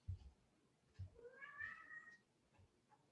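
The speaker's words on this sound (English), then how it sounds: "that was my cat in the background" A pet cat meows faintly in the background of a quiet room, one drawn-out cry between soft thumps.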